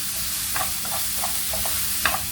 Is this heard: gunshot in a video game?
no